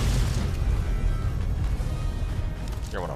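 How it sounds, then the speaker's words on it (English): Dense, rumbling explosions in Fallout: New Vegas roll on continuously, heavy low booms layered over one another with a brief whooshing effect near the end. "Explosions everywhere."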